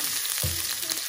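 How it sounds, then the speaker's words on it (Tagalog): Garlic and onion frying in oil in a pan, a continuous close hiss of sizzling with a low thump from stirring midway, no talking. "Una, lalagyan na natin ito ng mantika. Bawang at sibuyas."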